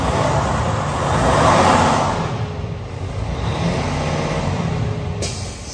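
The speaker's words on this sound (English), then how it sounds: "Let's have a listen to the engine. I'll just rev it up." A 2018 Freightliner Cascadia with a DD15 diesel engine runs steadily, with a broad swell as the revs rise and fall back to a smooth idle. The engine noise sits loud and close with no talk.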